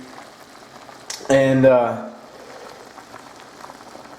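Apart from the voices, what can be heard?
water boiling in a pot for mint tea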